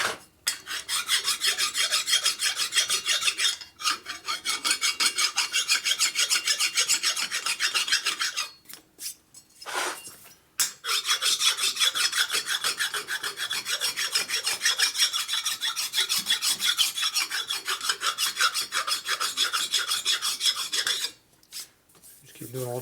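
Steady rasping strokes of a hand file cutting a high spot on a Harley-Davidson Sportster 1200 cylinder head, close and loud, repeated in long continuous runs with two brief pauses.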